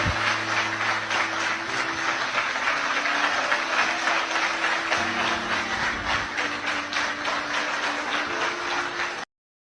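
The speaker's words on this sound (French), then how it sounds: "je ne peux que vous demander d'applaudir Monsieur le Président" Sustained applause from an audience at a liberal political gathering for the president, a dense steady patter of many hands lasting about nine seconds, fairly distant with a faint low hum beneath.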